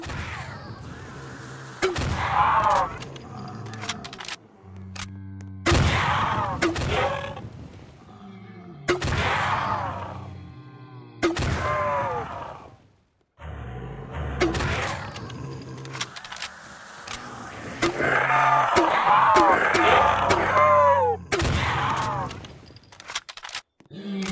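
Milkor MGL grenade launcher firing in Roblox Project Lazarus: loud, booming blasts come in repeated bursts separated by short quiet gaps, with heavy explosions thick with low rumble.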